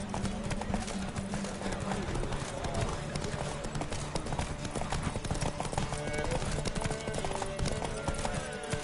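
Horses gallop in a race in the video game Witcher 3, with rapid clip-clopping hooves drumming continuously under game music and ambient noise throughout.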